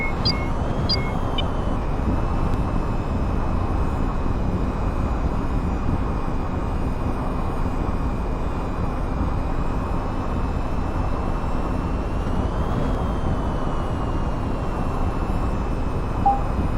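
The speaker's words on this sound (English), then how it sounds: "We'll go ahead and taxi our way to runway 27" An EF-24G jet taxis in the VTOL VR flight game, producing a loud, steady engine roar and whine that holds unchanged throughout with a thin high tone drifting slightly, with no talk.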